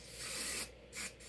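Hairspray is sprayed onto teased hair in short bursts: one longer hiss followed by a brief second spritz, close and faint, with no talking.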